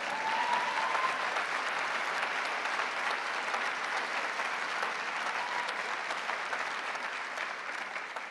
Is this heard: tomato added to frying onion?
no